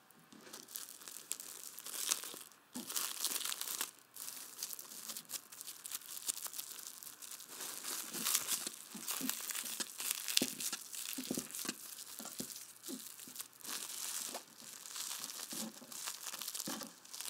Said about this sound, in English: Once all the tortillas have been rolled, wrap each one tightly in plastic wrap.